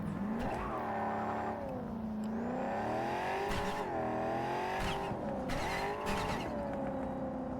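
A car driving hard in Cyberpunk 2077, its engine revving up and down in rising and falling sweeps with brief tire squeal, steady and close throughout.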